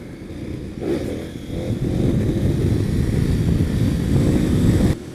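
Motorcycles ride on a dirt track in Morocco with the engine growling loud and close, the revs swelling after a second and staying high as the rider powers into wheelies.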